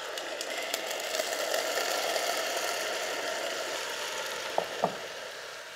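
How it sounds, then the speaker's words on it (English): Onions sizzle and fry in melted ghee in a pan, a steady crackling hiss with a couple of brief clinks near the end and no talking. "So I'm just gonna let the ghee melt, and now I'll put the onions in."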